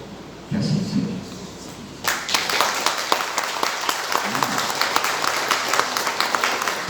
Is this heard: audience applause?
yes